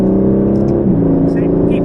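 An Aston Martin Vantage accelerates on the Silverstone circuit, its engine a steady, loud in-cabin drone that holds throughout while a driving coach talks over it.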